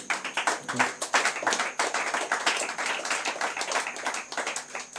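Church audience clapping in acclamation during a testimony service, a dense, continuous patter of many hands, fairly close and steady throughout.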